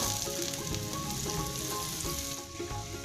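Dairy cream poured into a pan of sizzling garlic butter shrimp, a dense, steady frying hiss close by that holds evenly throughout with no voices.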